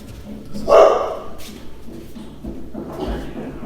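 A dog gives a loud bark near the start, followed by fainter yips and household noise, with two dogs and a cat present near a gate.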